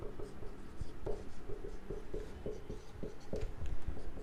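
Marker or chalk writing on a board during an accounting lecture on partnership journal entries, a steady run of short scratchy strokes with brief pauses, close and fairly quiet with faint room background.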